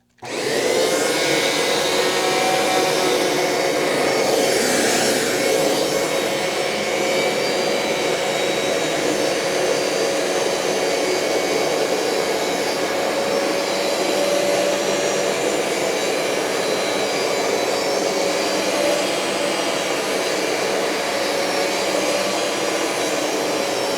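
A BISSELL ProHeat 2X Revolution Turbo carpet cleaner sucks solution back up from a carpet, giving a loud, steady, high whining roar of suction that starts abruptly and runs on without a break.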